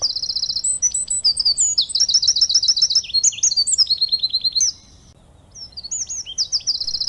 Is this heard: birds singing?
yes